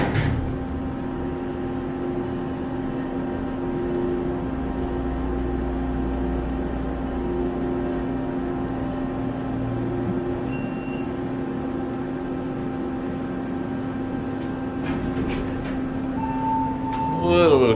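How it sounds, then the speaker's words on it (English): Otis Series 1 hydraulic elevator motor at the MGM Grand underground mall in Las Vegas runs in a steady, continuous hum with a low drone and faint tonal whine, holding level throughout with brief clicks near the end. "Alright, let's listen to the motor."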